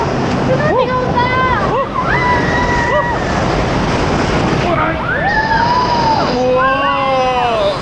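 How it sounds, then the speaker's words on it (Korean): Strong ocean waves surge and crash with broadband roaring and gusting wind, continuous and close, while several people call out and talk excitedly over the surf. "야 여기 파도 세다."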